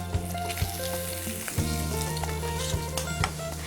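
Onion sizzles steadily in hot bacon fat in a pan, a dense continuous frying hiss with small pops and a few soft clanks of utensils, close and fairly loud with no voices.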